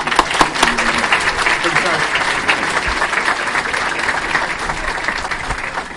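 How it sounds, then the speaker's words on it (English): An audience at a high school academic awards ceremony applauds for a Marine Corps sergeant called to the podium, a steady, dense wash of clapping that carries for the full stretch with faint crowd murmur beneath. "give a big round of applause"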